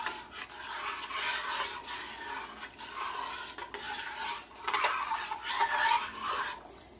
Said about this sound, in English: So I'm just going to slowly stir this.